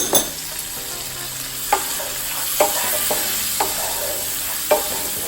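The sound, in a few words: frozen cooked clams sizzling in a pan of sauce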